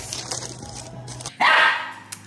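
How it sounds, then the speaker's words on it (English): A single sharp dog bark rings out near the middle, following brief shuffling and faint background noise. "I would like you to stop barking at me."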